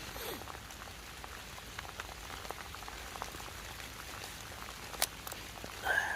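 Light rain patters steadily in the woods with soft scattered drops, quiet and close, a few sharper taps near the end.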